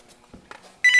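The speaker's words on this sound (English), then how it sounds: "Phone's ringing." A telephone starts ringing abruptly near the end, a loud electronic warbling tone following a few faint knocks in a quiet room.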